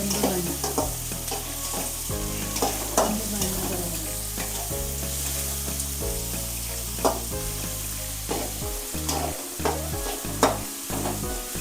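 Frying and stirring in a pan for egg bhurji, a loud continuous close sizzle with occasional spatula scrapes and clinks, set under steady background music.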